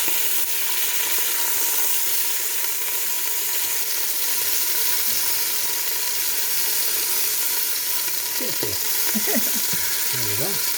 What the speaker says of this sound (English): we've braised a good part of this meat right now.